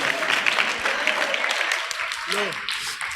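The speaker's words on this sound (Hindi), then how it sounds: "तालियों के माध्यम से स्वागत करेंगे।" An audience applauding at a Jain scripture class, a burst of clapping that runs steadily through the moment while a voice speaks over it.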